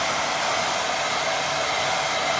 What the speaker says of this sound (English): Got my hair dryer on low so it don't blow everything everywhere.